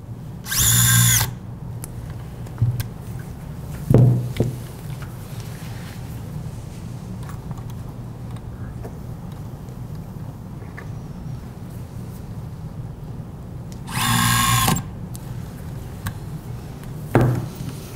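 Two short bursts of a high-pitched power drill whirring as it drives 7mm self-drilling screws into a rib during a surgical workshop, each about a second, separated by quiet with a few soft clicks and knocks.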